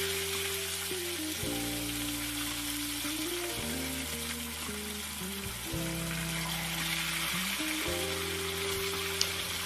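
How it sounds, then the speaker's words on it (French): Marinated fish frying in a pan over low heat, a steady dense sizzle running throughout, loud and close, with low humming tones shifting in the background and no talking. "Là, nous passons à notre étape de cuire le poisson."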